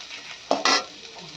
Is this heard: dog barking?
no